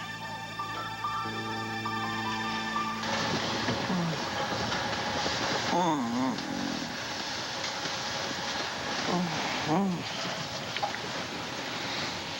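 A steady rail rumble runs throughout, opening with a sustained horn-like tone, with occasional squeals and rattles over the continuous noise.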